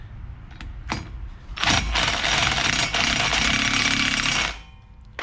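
An impact wrench rattles in one sustained burst of about three seconds while pushing a stuck brake rotor off a Scion FRS, preceded by a few short clicks and followed by quiet.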